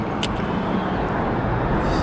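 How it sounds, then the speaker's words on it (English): A car passes close by on a road during a commute on an electric bike, its broad steady roar of engine and tyres filling the air with traffic noise and loud wind rush throughout. "Oh man, this car's coming in hot."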